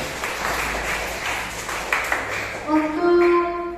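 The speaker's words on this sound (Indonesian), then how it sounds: "Untuk kelompok 4 beri aplaus dulu." A classroom group claps for the fourth group after its presentation, a dense patter of hands for a couple of seconds, then a short bright ping and murmured voices.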